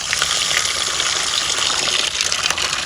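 Tap water pours steadily onto rice being washed in a container, a loud continuous close gush with no breaks and no voices.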